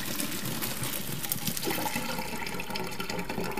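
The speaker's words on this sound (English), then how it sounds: "I'm going to take it over to the sink and dump it in the colander" Pasta water for Kraft Dinner pours from the pot into a colander in the sink, a steady loud rushing splash that fills the whole moment.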